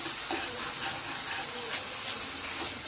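Spice masala paste frying in a pan while cooking stuffed eggplant, a constant dense sizzle with soft bubbling and faint stirring scrapes, close up.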